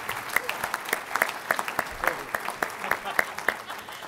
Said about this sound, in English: Let's give all of our environmental science students a round of applause.